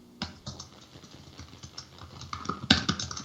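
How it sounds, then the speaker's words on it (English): Irregular clicking of keys on a computer keyboard, a quick flurry of taps with short pauses, close and fairly soft, with no voices. "I heard you typing away."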